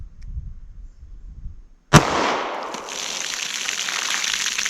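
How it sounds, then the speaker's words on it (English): A single sharp gunshot from a 9mm pistol firing a 124 grain XTP hollow point into a fiberboard ballistic box cracks loudly, followed by a sustained hissing ring after faint rustling. "first up, I have that 124 grain XTP 9mm"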